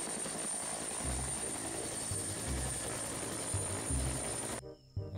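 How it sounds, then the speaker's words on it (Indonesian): Helicopter, a steady rotor whine with rhythmic low thumping blade beats that cuts off abruptly near the end, without any talk. "Ada helikopter ya teman-teman."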